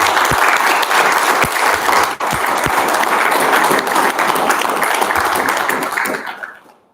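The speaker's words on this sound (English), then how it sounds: "give them a round of applause for the work that they've done" A full audience round of applause at a fans forum, dense steady clapping from many hands held at a loud level for several seconds before fading away at the end.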